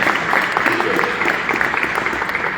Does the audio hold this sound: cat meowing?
no